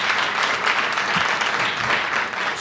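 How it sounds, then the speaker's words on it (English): A breakfast-meeting audience at a Brooklyn business event applauds in a steady, dense wash of clapping that lasts the whole brief stretch with no talking. "Let's give the Borough President's team a round of applause."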